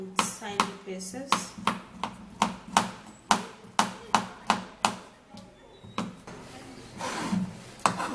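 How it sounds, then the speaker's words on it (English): A knife rapidly chops a banana into tiny pieces on a cutting board, a steady series of sharp taps, close and distinct, slowing slightly toward the end. "And then cutting the banana in tiny pieces."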